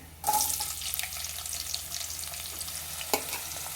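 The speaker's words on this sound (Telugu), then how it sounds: "ఇప్పుడైతే ఆనియన్ వేసుకుందాం ఫ్రెండ్స్." Onions dropped into hot oil in a pan for a ridge gourd curry set off a sudden loud sizzle, which settles into a steady frying hiss with a stirring scrape and a sharp clink near the end.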